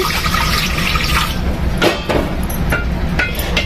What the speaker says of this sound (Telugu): ఇందులో కొన్ని వాటర్ వేసుకొని